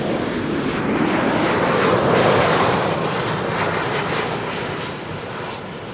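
A KLM airliner arriving at Amsterdam Schiphol Airport roars past close by, a loud, broad jet rush that swells and then slowly eases away.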